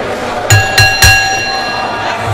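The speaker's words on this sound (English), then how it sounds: "as we await the signal from the referee to ring the bell" A ring bell is struck three quick times to start a professional wrestling match, loud ringing tones with a lingering resonance over a murmuring arena crowd.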